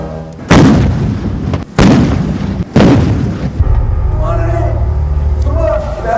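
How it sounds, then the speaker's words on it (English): Ceremonial 21-gun salute at a Victory Day celebration, with three heavy artillery booms roughly a second apart, each loud and rolling away into a long low echo, followed by a murmur of crowd and faint voices in the background. "A 21-gun salute was also observed."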